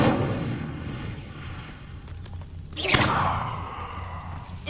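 Incendio fire spell cast in the video game Hogwarts Legacy, a sudden whooshing burst with a sharp rising hiss around the middle, ringing and fading over a low, rumbling game ambience.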